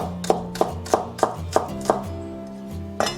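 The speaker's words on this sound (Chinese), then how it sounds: "差点忘记切这个小葱了" A knife chops green onions on a cutting board in about eight sharp, evenly spaced knocks, close and clear, with a brief pause before the final stroke.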